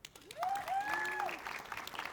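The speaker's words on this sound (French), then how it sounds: "Vous allez applaudir, vous allez faire comme une tonnerre de bruit pour chacune des personnes que je nomme." An audience applauds panelists at a conference on modern authentication, a steady wash of clapping with a rising, falling whoop or whistle riding over it for about a second.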